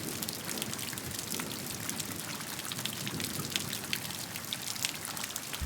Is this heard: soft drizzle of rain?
yes